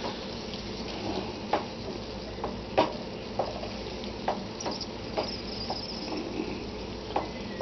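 Corn maque choux sizzles softly in a pan while a spoon stirs it. A steady low sizzle runs under scattered light scrapes and taps from the stirring, moderately close.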